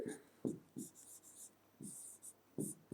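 A pen scratches across paper while a daily routine is written out, making quiet, close strokes in short irregular bursts with brief pauses between them.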